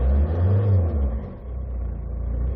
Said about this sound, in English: Okay, let's try to accelerate.